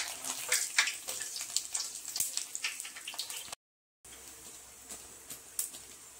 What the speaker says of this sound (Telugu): ఇందులోకి వాటర్ యాడ్ చేయాలి, 250 ml ఆఫ్ వాటర్ యాడ్ చేయాలి